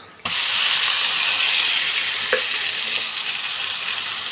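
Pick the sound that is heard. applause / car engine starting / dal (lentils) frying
dal (lentils) frying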